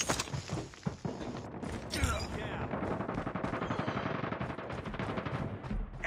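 Rapid bursts of gunfire crackle in Call of Duty Mobile, with repeated automatic shots and mechanical clicks sounding close and steady under occasional game voice lines.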